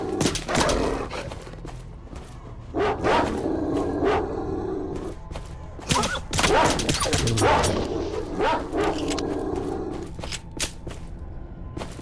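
Barking and whimpering dogs in STALKER: Shadow of Chernobyl, a series of sharp yelps and barks scattered across the scene over steady game ambience, fairly close and loud.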